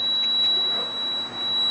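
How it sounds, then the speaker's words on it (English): A digital multimeter's continuity beeper sounds as a steady, loud, high electronic tone, one sustained beep held nearly unbroken for under two seconds with slight dips in level. "at 220 ohms is whenever we finally get that beep."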